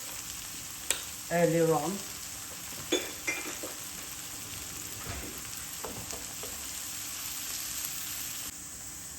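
Onion frying in a pan with a pinch of salt while mixed lentil dal is made, a brief bright sizzle near the start followed by light stirring clinks and a soft steady hiss, with faint talk.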